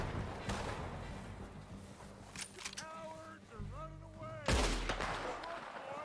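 Gunfire in the Western video game Red Dead Redemption 2, several sharp shots scattered over steady background game noise, with ringing tonal effects and a louder burst near the end.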